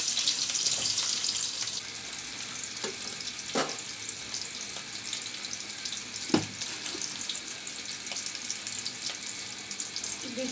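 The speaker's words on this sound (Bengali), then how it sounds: "আর এখন আমি পরিমাণ মতো তেল দিয়েছি দিচ্ছি রসুন কুচি আর একটা দিলাম পেঁয়াজ কুচি" Garlic and onion frying in oil in a pan for a red amaranth leaf stir-fry with prawns, a steady close hiss of sizzling with a few sharp stirring clatters throughout.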